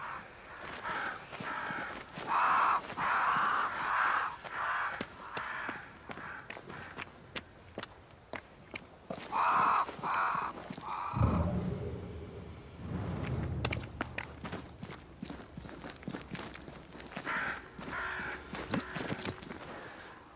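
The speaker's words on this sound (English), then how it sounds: "Crows. They flock to that great tree up there." Crows caw in repeated bursts around a great tree in the game Banishers: Ghosts of New Eden, several harsh calls at moderate distance, with footsteps and rustling in between.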